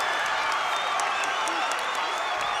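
Basketball crowd cheering and applauding after a game-tying pull-up jumper at a college game between the Eagles and Bob Jones University, a loud sustained roar with clapping, and an announcer speaks over it.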